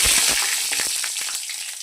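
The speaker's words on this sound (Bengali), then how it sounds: "তেলটা আমার গরম হয়ে গেছে। এর মধ্যে আমি এবার দিয়ে দিচ্ছি শুকনো লঙ্কা, তেজপাতা আর গোটা জিরে" Dried chillies, bay leaf and whole cumin hit hot oil in a pan for a spinach dal, giving a loud steady sizzle with scattered sharp crackles and pops that ease slightly as it goes on.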